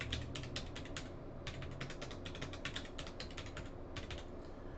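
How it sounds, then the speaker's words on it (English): Someone types a password quickly on a computer keyboard while setting up USB drive encryption in Windows 10. Rapid, close keystrokes come in dense bursts separated by brief pauses, with no talking. "All right, I typed that really fast."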